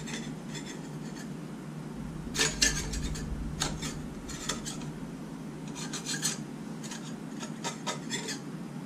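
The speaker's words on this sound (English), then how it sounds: "Let's see if I can scrape this off." A metal scraper rasps repeatedly over a Jeep TJ water pump surface to remove old gasket material, close scratchy strokes in uneven bursts with no talking.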